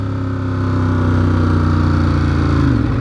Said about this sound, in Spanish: Suena como agresivo, suena como realmente como se ve esta moto, como debería de sonar. Y eso que es el escape original